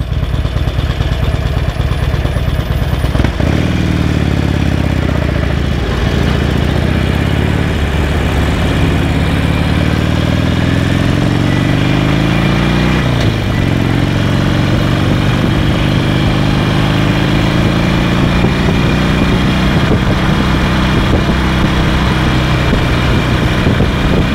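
A Harley motorcycle with about 6,800 kilometers on it runs continuously while being ridden, its loud, close engine rumble rising and falling in pitch as the throttle changes, with no talk.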